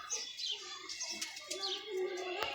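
Pigeon coos and soft calls sound close by while a female pigeon, out flying since morning, comes in to land and settle. Wing flaps and a few sharp clicks break in here and there.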